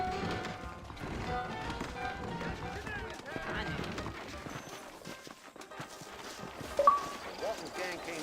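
Horse hooves clip-clopping in Red Dead Redemption, a steady soft rhythm of hoofbeats under ongoing talk, with a brief louder knock near the end.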